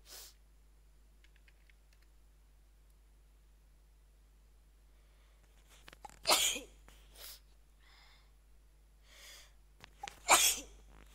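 Two sharp sneezes about four seconds apart, close and loud against a quiet room, with faint keyboard-like clicks and breathy sounds between them.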